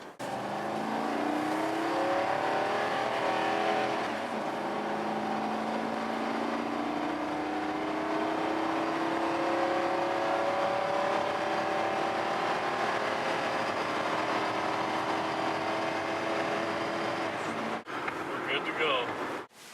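A 2001 Ford F-150 pickup with a 5.4-liter engine and about 155,000 miles pulls away, its engine note climbing steadily through gears for most of the stretch before dropping off near the end, heard from inside with some road whir.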